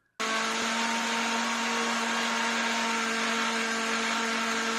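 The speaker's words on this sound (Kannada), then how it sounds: "ಇದೆಲ್ಲ ಚೆನ್ನಾಗಿ ಫ್ರೈ ಆದಮೇಲೆ ಇದನ್ನ ಜಾರ್ಗೆ ತಗೊಂಡು ಮಿಕ್ಸಿ ಮಾಡ್ಕೊಳ್ಳಿ." Mixer grinder whirring as it blends fried tomato mixture into a smooth paste for tomato pickle: starts abruptly after a brief silence, then a loud, steady, close motor drone continuing without a break.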